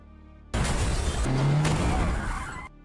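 A car slams into a man during a tense drama scene, a sudden loud impact bursting in after near silence, followed by a sustained rumbling roar and a brief tonal screech before cutting off.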